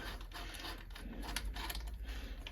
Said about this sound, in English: I'm just going to remove the bolts